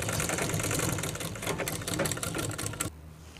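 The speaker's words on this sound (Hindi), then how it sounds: "फिर यहाँ से सिलाई हम मारते चले जाएँगे" A sewing machine stitches a trouser welt pocket, a dense fast needle clatter and motor whir up close that runs steadily for about three seconds, then stops abruptly.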